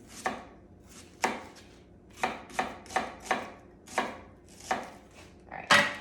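A knife chops onions thinly on a cutting board for fajitas: about ten crisp, separate strokes at an uneven pace, close and clear, with no talking.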